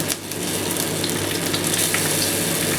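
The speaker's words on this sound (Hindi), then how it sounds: "अब हरी मिर्चों को अच्छे तरीके से हमने फ्राई करना है।" Green chillies frying in hot oil for a brown mutton curry, a dense, close sizzle with crackling spits that holds steady throughout, no voices.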